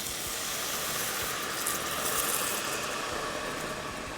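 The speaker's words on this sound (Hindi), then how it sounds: "आंच अभी भी हल्की है, और इसमें हम डालेंगे दूध।" Milk poured into a hot pan holding bread over a low flame gives a steady, close sizzle and hiss that continues without a break for the whole stretch.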